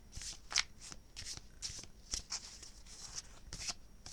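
Tarot cards being shuffled by hand, quiet and close, with a run of brisk riffling bursts repeating at a fairly regular rhythm.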